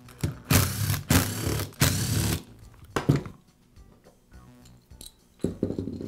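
Gearbox assembly being pulled off the motor of a DeWALT drill during repair: several close scraping, clicking metal-and-plastic rasps in quick bursts, followed by small taps and light clinks, with no voices.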